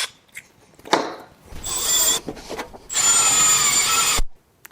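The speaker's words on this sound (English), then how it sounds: "So now we're going to use a hole saw" A power drill with a 2 3/8 inch (60 mm) hole saw cuts a mounting hole for a light bracket, whining up in short bursts, then a longer steady high-pitched grinding pass that stops abruptly, close and loud.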